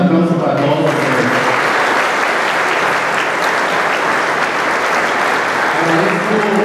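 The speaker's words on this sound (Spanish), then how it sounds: "Un aplauso para todos." Crowd applause at a government report event in Tlatelolco, a loud, sustained roar of clapping that starts after a short stretch of speech and fades as the voice returns at the end.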